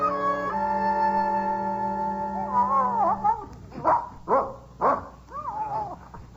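A dog in a 1950 radio drama barks several times in loud, separate yelps after a long sustained tone with a howl-like rise, close and clear with no talk over it.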